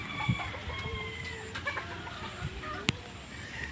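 Chickens cluck softly around a poultry farm pen, with scattered calls and a sharp squawk near the end, faint and fairly close over a quiet background.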